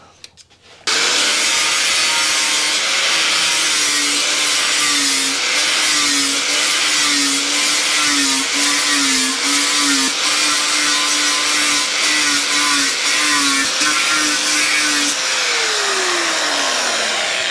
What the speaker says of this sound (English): So let's have a crack with the grinder.